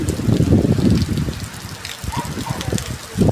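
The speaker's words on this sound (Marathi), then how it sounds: "आणखी पाऊस आलाच." Steady rain hisses and patters close by, a broad wash of noise with heavier bursts at the start and end, no voices over it.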